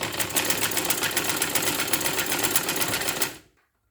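A sewing machine stitches along a neckline in a fast, steady, close-up whir of rapid needle strokes that runs for about three seconds, then slows and stops, leaving silence.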